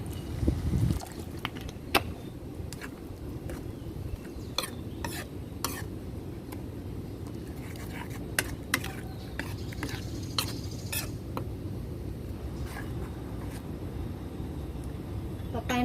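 Thai canned-fish chili paste with tomato being stir-fried in a pan, a steady scraping and stirring with a low background sizzle and occasional sharp utensil clicks against the pan.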